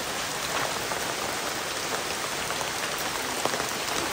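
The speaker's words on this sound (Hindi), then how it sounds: "पर बारिश रुकने का नाम नहीं ले रहा है" Heavy monsoon rain pours steadily at Mangad hill fort near Mangaon, beside an old Shiva temple, as a dense, even hiss of falling drops that stays constant with no voices.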